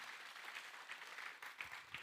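A church congregation applauding, a steady dense wash of clapping from many hands heard at a moderate distance throughout.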